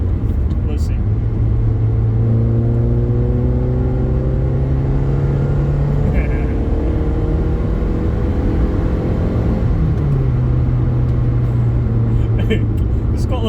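A Toyota Paseo ST with a blowing exhaust idles and revs. A steady, rumbling engine note sweeps up and down in pitch as the throttle is blipped, loud and close throughout.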